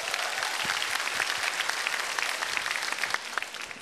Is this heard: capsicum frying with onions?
no